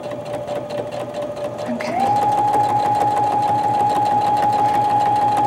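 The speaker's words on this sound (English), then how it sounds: "I'm gonna just back stitch just once because I don't wanna have a bunch of back stitching on this beautiful chandelier." A sewing machine stitches fabric for a chandelier, its motor running in a steady rapid mechanical whir that rises in speed and loudness partway through, close and prominent.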